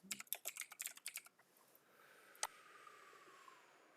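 Keys clatter on a computer keyboard in a quick, close run of strokes for just over a second, then stop, leaving faint room hiss and one sharp click.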